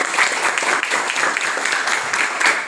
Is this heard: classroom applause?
yes